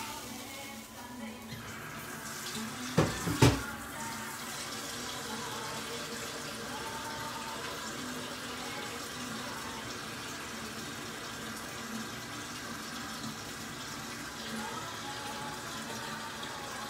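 Tap water runs into a pot in a Sardinian cooking kitchen, a steady continuous hiss and splash throughout with a couple of sharp clanks near the start, no talking.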